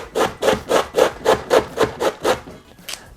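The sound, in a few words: grating cabbage for coleslaw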